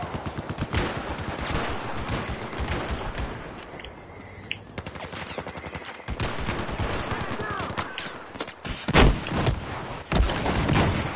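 Video game gunfire in dense, rapid bursts of shots and blasts that nearly fill the stretch, loud and close, with a short quieter gap partway through.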